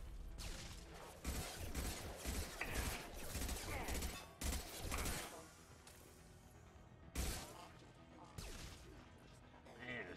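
Rapid gunfire bursts crack and thud in a Mass Effect 2 firefight, with shots striking Shepard in dense, loud clusters and brief heavy impacts, mixed with voices talking.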